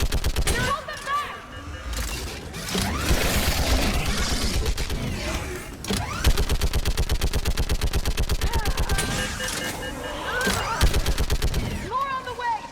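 Intense video-game gunfire in Mass Effect 3 during a battle on Thessia: dense, continuous bursts of rapid automatic shots for the whole stretch, loud and close, with voices shouting over the fire.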